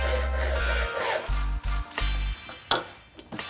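A hand saw cuts dovetail tails into wood, making soft, rhythmic rasping strokes close by, about five or six back-and-forth passes under a steady low hum, ending with a few light knocks.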